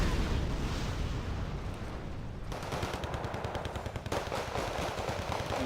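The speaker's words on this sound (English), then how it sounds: "they do also have a Browning. And as you can see, that's just a lot of tracer fire." Sustained machine gun fire in the war strategy game Wargame Red Dragon, a dense, loud rattling stream of rapid shots with booming impacts layered underneath.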